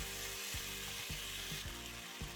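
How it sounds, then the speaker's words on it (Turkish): Rice sautéing in a pot for chestnut pilaf, a steady close sizzle with several soft scraping stirs spaced through it, no voices. "Tekrar birkaç dakika kavuralım."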